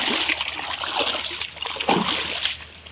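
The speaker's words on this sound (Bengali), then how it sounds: "এই জায়গা থেকে একটু হাত পাটা ধুয়ে নিই" Water splashes and trickles outdoors as muddy hands and feet are washed, with irregular close splatters and sloshes over a few seconds.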